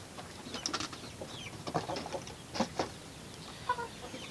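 Older chicks and hens cluck softly and intermittently around two feeders in a coop, with a few scattered calls and light scuffling close by.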